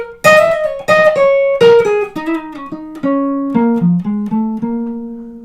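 Minor-flavored chord soloing on jazz guitar in a bebop vein, a dozen or so punchy chord hits descending in register, ringing close and unaccompanied, with no voices.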